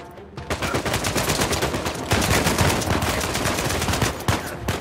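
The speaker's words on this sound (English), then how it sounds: "We have a shotgun." Gunfire in the video game Uncharted 4, with a shotgun in play: a dense, nearly continuous barrage of loud shots lasting the whole stretch, no talking over it.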